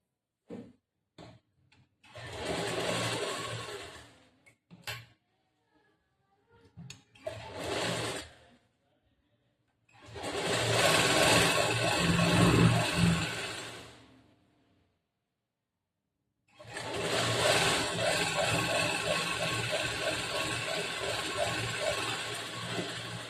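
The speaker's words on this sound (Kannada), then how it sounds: "ಅರ್ಧ ಇಂಚ್ ಬಟ್ಟಿಗೆ ಒಂದು ಹೊಲಿಗೆ ಹಾಕಬೇಕು" A sewing machine stitching the seam of a back-hook blouse, running in three separate bursts of rapid mechanical clatter with quiet pauses between them, close and without talking.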